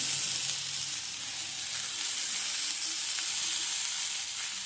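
Potatoes and onion with turmeric frying in a wok give a soft, even sizzle, fairly faint and continuous, with light stirring scrapes and no voices.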